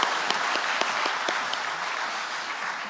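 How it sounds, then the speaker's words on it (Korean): Church congregation applauding during a Sunday worship service, a steady wash of many hands clapping with a few sharper claps standing out, sustained throughout at an even, moderate level. "하나님께 영광의 박수 올려드리겠습니다"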